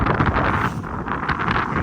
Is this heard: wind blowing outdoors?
yes